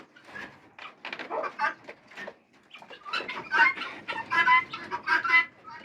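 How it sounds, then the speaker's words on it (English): Hens cluck inside a chicken house while laying eggs, with irregular bursts of close, throaty clucking and short pauses between calls, and no other sounds. "There are 2 chickens laying eggs inside there."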